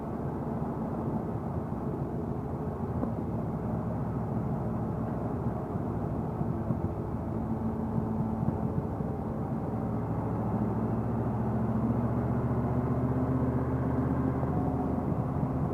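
A Yamaha RS Venture engine drones steadily throughout the ride, with a continuous low rumble and wind noise and small shifts in pitch.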